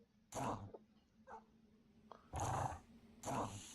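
In a Battle Brothers fight, dogs give several low, rough growls in short bursts with brief gaps between them, fairly quiet against a faint background.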